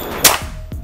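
A Predator OD 38 PCP air rifle with a stacked chamber gives one close, sharp shot with a brief ringing tail, then a soft knock.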